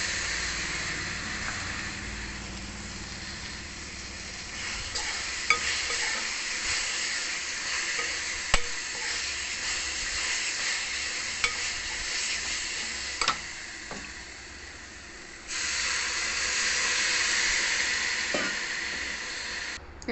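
Onion curry for puri sizzles and bubbles in a pan after gram flour goes in, a continuous soft frying hiss with occasional clicks of stirring, growing slightly louder toward the end.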